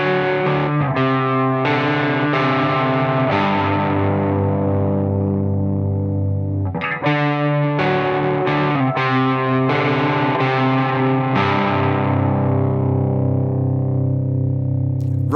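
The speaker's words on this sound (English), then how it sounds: "So we get a clean chorus plus distortion, not distortion going into chorus." Electric guitar chords played through a clean, shimmering chorus run in parallel with gritty distortion on an Old Blood Noise Endeavors Excess pedal, ringing and sustaining with no voices.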